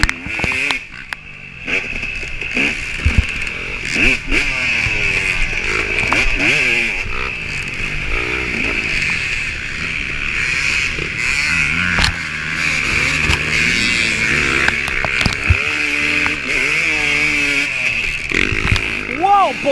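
Off-road motorcycles racing along a muddy ridge trail, engines revving and whining continuously up close, with a rider talking over the noise.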